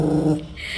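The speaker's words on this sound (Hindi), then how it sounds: "देखो उसकी तरफ देख के गुर्रा रही है, जैक की तरफ।" A dog growling over a bone gives a short, low, throaty rumble close up that fades into quieter noise.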